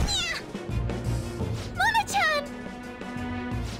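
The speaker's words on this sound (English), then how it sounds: "What the? Goddamn cat!" Meowing cat in the Persona 5 Royal video game, several drawn-out meows with a caterwauling edge, mixed with voiced character speech and background game music.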